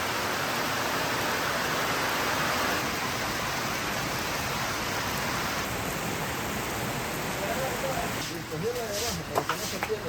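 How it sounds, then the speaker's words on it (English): Heavy tropical downpour in Nicaragua, a dense steady roar of rain filling the whole clip at close range, with a few brief knocks and a faint voice near the end. "It rains a lot here, and we're actually getting out of rainy season, but as you can see, it's come down pretty hard."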